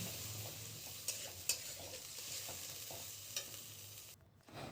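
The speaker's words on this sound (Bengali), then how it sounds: "পেস্টটা যতক্ষণ না মানে তেলটা ছাড়ছে ততক্ষণ আমি এটাকে নাড়াবো" Spice paste gravy for khichuri stirred in hot oil in a pan, a steady close sizzle with a few sharp scrapes of the spoon and a brief drop-out near the end.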